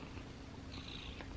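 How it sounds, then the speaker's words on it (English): A pet cat named Moxie purring steadily close by, a soft continuous low rumble in a quiet room with faint background noise, no talking over it. "but you can hear her purring"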